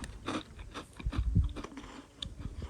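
Crunching bites of mini cheese crackers, close and dry, with several chewing crunches in an irregular rhythm, eaten outdoors in the desert at Joshua Tree National Park.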